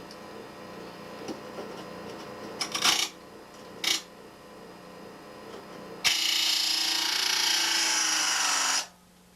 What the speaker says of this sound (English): we also have to take and grind these little things. Get hot when you grind them too.